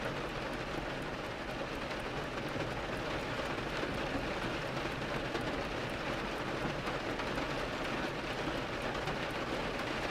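Steady, dense rain falling continuously and evenly close by, a broad unbroken hiss with no other sounds standing out.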